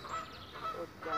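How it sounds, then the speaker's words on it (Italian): Ducks in a park give a few faint, nasal quacks and honks in short bursts against quiet outdoor background. "abbiamo anche Frau, la signora, cioè la signora Anatra, che è quella marroncina"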